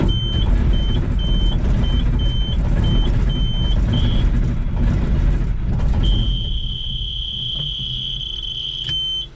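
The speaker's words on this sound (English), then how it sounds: "Their little beeper they put in the monitor is really damn annoying, so it's doing its job." A warning beeper in the monitor of a White 8700 tractor pulses in short, evenly spaced high beeps, then holds a long continuous tone, loud and close over a low engine rumble.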